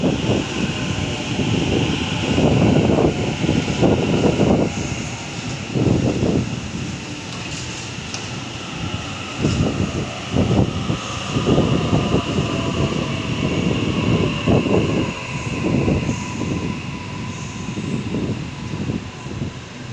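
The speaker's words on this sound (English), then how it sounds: "Approaching platform 1, we have a Barara via Gordon service" Sydney suburban train at Parramatta station platform 1, a Berowra via Gordon service, rumbling close by with rhythmic bursts of wheel and bogie noise over the rails under steady wind buffeting.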